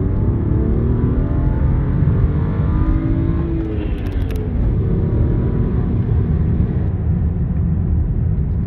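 A BMW 335i E92 LCI coupe accelerates hard in second gear, its engine a loud, steady interior drone rising smoothly in pitch for several seconds without interruption.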